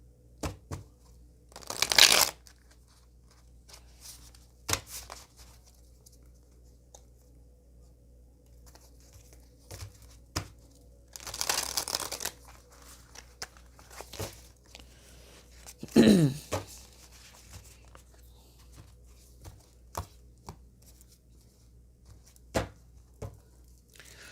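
A fresh tarot deck is shuffled back to front in a quiet room: three short bursts of riffling and sliding cards, separated by soft handling taps and rustles.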